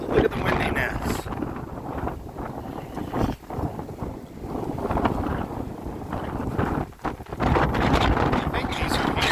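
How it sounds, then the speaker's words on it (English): Strong gusts of outdoor wind buffet the microphone in heavy, low rumbling bursts that rise and fall, with a couple of brief drops, loud and constant across the whole stretch. "it is windy as shit out here. Look at the windiness."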